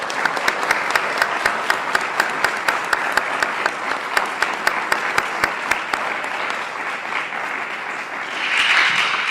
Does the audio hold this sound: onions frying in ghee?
no